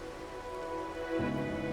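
Rain falls in the video game Wuthering Waves, a soft continuous patter under sustained tonal background music that swells slightly near the end; no one speaks.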